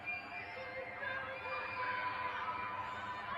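A large outdoor crowd of about twenty thousand people screams together in a dense, continuous roar of mixed voices. The shouting is heard from some distance.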